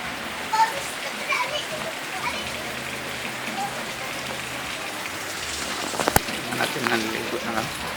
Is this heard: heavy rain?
yes